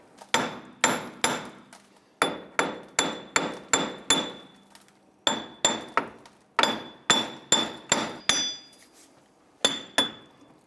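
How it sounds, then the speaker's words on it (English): A hammer repeatedly strikes a Jeep Grand Cherokee hub to break it loose from the steering knuckle, sharp ringing metallic blows coming close and loud in quick bursts of three to five hits separated by short pauses. "continue to tap around here until the hub separates from the knuckle"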